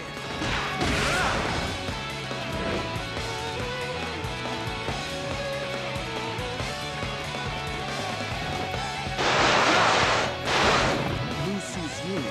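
A guard tower is smashed apart in the Dynasty Warriors 8 video game: repeated crashing impacts and crumbling debris, with a louder burst of heavy smashes near the end, set against ringing game music.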